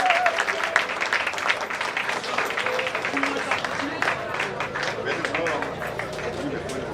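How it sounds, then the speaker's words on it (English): A seated audience at an NV GEBE 55th anniversary celebration gives a warm, sustained round of applause for top students, with dense clapping throughout and faint crowd chatter mixed in. "give a warm round of applause to our top students"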